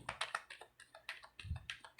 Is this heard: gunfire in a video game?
no